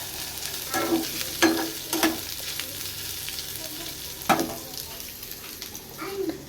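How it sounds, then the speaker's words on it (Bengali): Steady sizzling and crackling of potatoes frying in a pan, with occasional scraping stirs and clinks rising above the hiss. "এখানে আলু ভাজা হচ্ছে"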